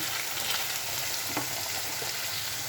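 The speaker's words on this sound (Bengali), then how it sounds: "এবার ভেজে নিচ্ছি একে একে চিকেনগুলো" Marinated chicken pieces, coated in soy sauce, vinegar, black pepper, ginger and garlic paste, fry in a pan with a steady, even sizzle and one faint clink partway through.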